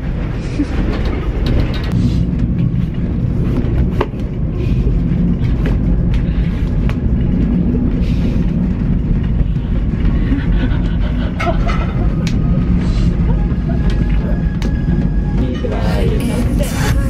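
A train ride heard from inside the carriage, with a steady loud rumble of wheels and rails and occasional clicks and knocks throughout.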